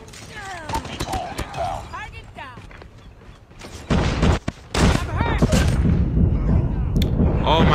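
Video game gunfire in rapid bursts and single shots, some sharp and booming, loud and close, growing denser toward the end, with a player talking over it.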